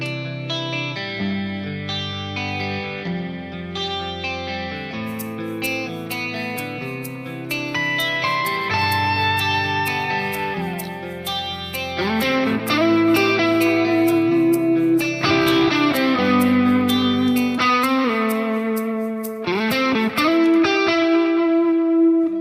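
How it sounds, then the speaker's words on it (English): Electric guitar played through a Line 6 Helix with echo, reverb and ping-pong delay, recorded via a Tascam Model 24. Sustained chords and melodic notes ring out with repeating echoes bouncing between sides, continuous and alone without talking. "A little bit of a ping pong delay going."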